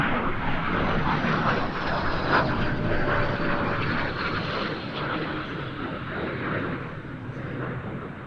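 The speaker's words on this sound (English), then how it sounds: "the Swedish Air Force SK-60, which delivered a balletic display, including outstanding manoeuvres such as this quarter rolling circle." Swedish Air Force SK-60 jet flying an aerobatic display with a quarter rolling circle, a steady loud broadband jet roar sustained throughout, gradually easing slightly in level.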